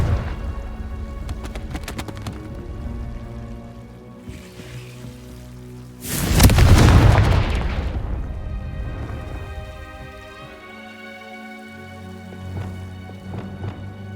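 A Confringo fire spell explodes in the video game Hogwarts Legacy, a sudden loud, broad blast that rises sharply and then rumbles away over a couple of seconds, set against a steady game music and ambience bed with no talk.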